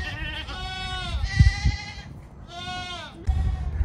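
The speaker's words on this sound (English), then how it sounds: "The goats are sure being noisy this time of year" Goats bleat loudly in several long, wavering calls, one after another, close by, with some low thumps and rustling in between.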